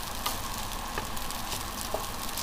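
Fried rice with dried shrimp and carrot being stirred in a pan, a steady low sizzle of frying with faint scraping stirs throughout, quiet and close.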